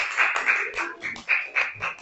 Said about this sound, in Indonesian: kasih tepuk tangan lu dong untuk kelompok 1